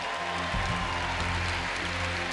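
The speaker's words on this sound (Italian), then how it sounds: "facciamo un bel applauso" An audience at a cosplay award contest claps for a finalist couple on stage, a steady dense wash of clapping that holds at moderate loudness without a break, with a faint low musical hum underneath.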